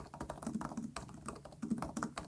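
Quick, light typing on a Dell XPS 14 (2026) laptop keyboard, a short run of clicky shallow keystrokes heard close and fairly quiet with no talking.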